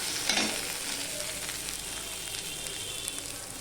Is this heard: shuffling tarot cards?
no